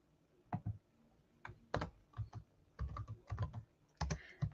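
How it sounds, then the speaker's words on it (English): Someone types on a computer keyboard in short irregular bursts of quiet, close clicks and key taps, with brief pauses and no voices. "Let's type this in."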